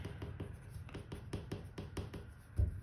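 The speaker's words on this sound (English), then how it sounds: "If we write this down right here" Pen or pencil writing on paper while a math problem is worked out, a run of short, evenly spaced scratchy strokes close to the microphone, with a soft thump near the end.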